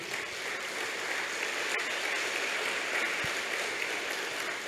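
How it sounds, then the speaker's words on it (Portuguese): A church congregation at a live service applauds, giving a dense, even wash of clapping that holds steady throughout with no voices on top. "Nós vamos mais uma vez aplaudir ao Senhor."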